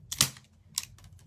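Scissors snipping pieces of mesh for a Christmas flower wreath, two or three sharp close cuts with faint handling noise between them.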